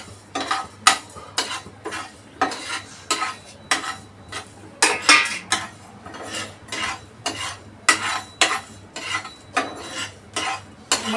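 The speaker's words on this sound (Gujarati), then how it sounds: "એને આપણે સાંતળી નાખીશું।" Whole spices such as coriander seeds dry roasted without oil in a pan for sambar, a spoon scraping and rattling them in steady rhythmic strokes about once a second, close and fairly loud, with no voices.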